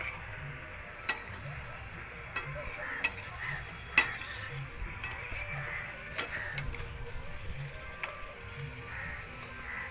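Meat curry masala frying and being stirred at a New Year picnic, a soft continuous sizzle broken by repeated sharp clicks and scrapes of a spoon against the pot.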